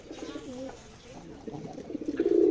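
A male homing pigeon coos close by, a series of soft low throaty calls that build in loudness toward the end, with no one speaking.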